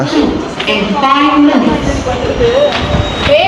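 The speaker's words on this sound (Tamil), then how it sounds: "next train to பில்கு Nagar depot metro is arriving" A metro train pulls into a platform at a Chennai-style metro station bound for the depot, its steady rolling rumble and wheel squeal heard up close while a station announcement and nearby voices talk over it.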